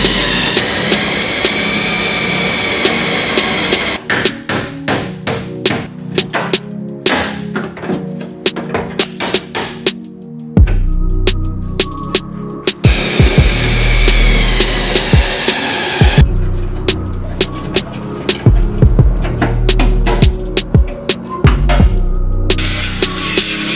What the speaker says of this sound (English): So I got a spot weld cutter. I'm gonna cut that out